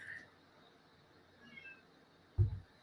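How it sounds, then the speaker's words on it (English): A single short cat meow rises near the end after a quiet stretch of faint room noise. "Oh, I heard the meow."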